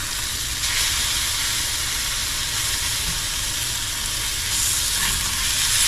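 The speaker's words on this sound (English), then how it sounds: "So I prefer cast iron for my sausage" Sausage sizzling in a cast iron pan, a loud steady hiss of frying fat that holds throughout with faint crackles, close and continuous with no talk.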